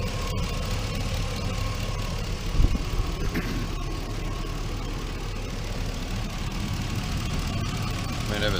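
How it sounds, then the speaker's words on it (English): A 2002 GMC Yukon engine idles steadily at close range, a low continuous rumble with a faint knock, with a brief thump early on and no clear talk. "She's still running great,"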